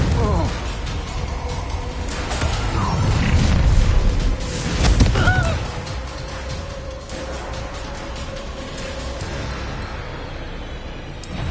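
A Confringo blasting spell in Hogwarts Legacy detonates amid combat, with heavy booming blasts swelling around the middle of the clip over a busy, rumbling background, and voices talking throughout.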